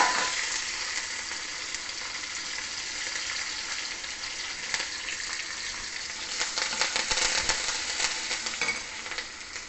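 Green chilies, ginger and curry leaves are tempering in hot oil for an onion curry served with puri, giving a loud, steady, close sizzle with small crackles and no talking.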